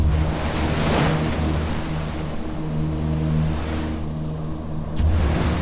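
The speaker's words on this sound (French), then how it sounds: "ça devient très dur, les vagues sont serrées" A boat pushes through rough, tightly packed sea waves, its steady engine drone layered under a constant loud wash of water and surf with surges of heavier spray, and no voices.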